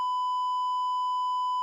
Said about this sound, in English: Which one's the beep button?